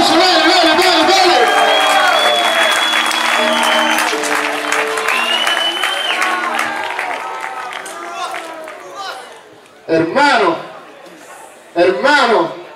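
Crowd at an Argentine freestyle rap battle final, the Sinescritura tournament, roars and applauds loudly in a dense, sustained wash, with someone shouting over it and voices calling out as the noise fades to short bursts near the end.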